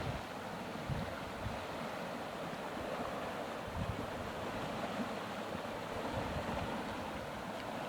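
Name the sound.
floodwater rushing through a 6-foot culvert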